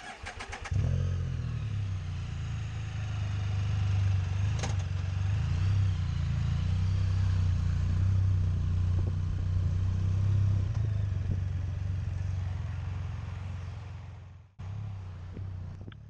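Can-Am Spyder three-wheeled motorcycles set off on a practice lap, their engines a steady, loud low drone that holds through most of the stretch before a brief drop and return near the end.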